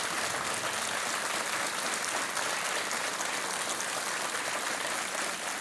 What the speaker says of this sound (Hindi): मैं जनता को कहूंगा कि